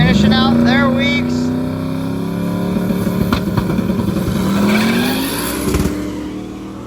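A Pontiac Trans Am drag car launches at a drag-and-drive event, engine roaring loudly and rising in pitch as its tires spin and squeal, with an announcer talking over it.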